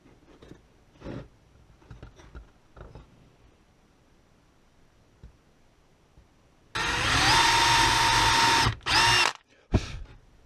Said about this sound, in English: Just drilling a few pilot holes so the wood doesn't split when I put the wood screws in.